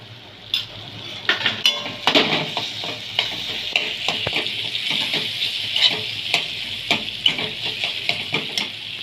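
Mixed vegetables for traditional Bhogi bhaji frying in a pan with a spoonful of ground spice paste, a steady sizzle under repeated scraping and clinking stir strokes of a spoon against the pan, close and fairly loud.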